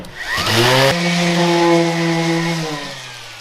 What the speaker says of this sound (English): Now we're just gonna go ahead and sand the whole thing lengthwise so that you don't get slivers on any of it.